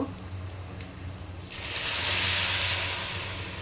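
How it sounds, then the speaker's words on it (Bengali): Hot water poured into a rice cooker bowl holding rice grains, a steady rushing hiss that starts after a quiet moment and carries on close and fairly loud. "আগে থেকে গরম জল করে রেখেছিলাম, গরম জল দিব।"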